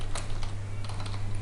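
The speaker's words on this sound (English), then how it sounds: "So if you are typing anything here," Quick keystrokes on a computer keyboard, a few light clicks in short bursts over a steady low electrical hum, no speech.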